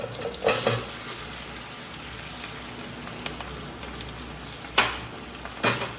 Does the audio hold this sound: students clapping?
no